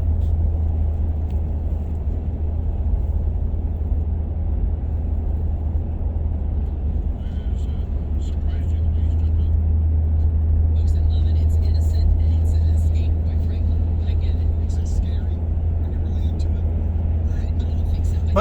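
Car driving through downtown Atlanta traffic, a steady low engine and road rumble continuing throughout, close and loud, with a person talking over it.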